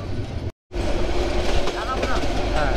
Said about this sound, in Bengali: পেয়ারপুর রেল স্টেশন থেকে চলে যাচ্ছি আমরা।